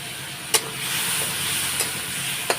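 Chicken braising in a pan with a little water, giving a steady loud sizzle and steamy hiss broken by three sharp spatula scrapes or taps, with no talking.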